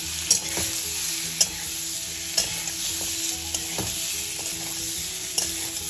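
Boiled, cut potatoes frying with cumin in a pan, a constant close sizzle punctuated by several sharp scraping clicks of a spatula stirring at irregular intervals.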